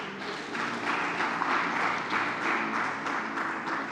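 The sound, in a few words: congregation applauding and cheering in praise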